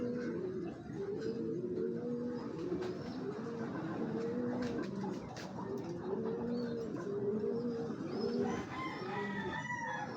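Pigeons coo steadily outdoors in Quezon Province, with layered, overlapping calls repeating throughout at a moderate level and faint rustling mixed in.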